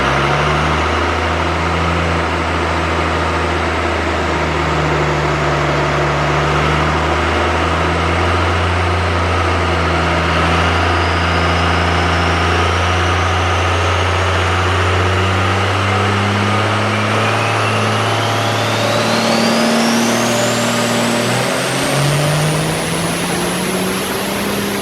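A car engine drones steadily on a chassis dyno, run on fuel only, its pitch climbing smoothly as it revs higher, loud and close throughout with no talk.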